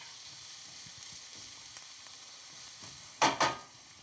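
Browned pancetta added to softened onions in a hot pan sizzles steadily, with a brief louder burst of frying and stirring near the end; no talking.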